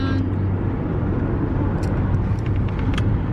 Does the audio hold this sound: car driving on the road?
yes